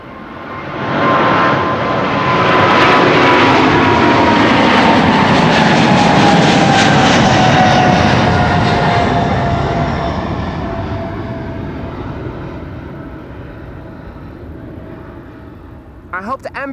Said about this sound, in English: The A350 and the Orange Pride to get the show started.